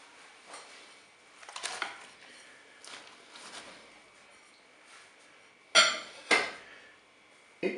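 Vegetables are tipped into the metal bowl of a Cookeo pressure cooker, a few soft rustles and clatters followed by two sharp close knocks near the end.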